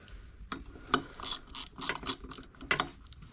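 A ratchet clicks in short, uneven bursts while small window regulator bolts are snugged down by hand, close and fairly quiet, with no talking.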